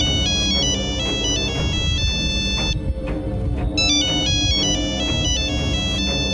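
A phone ringtone plays continuously, a bright repeating electronic melody with a short pause midway, loud and close.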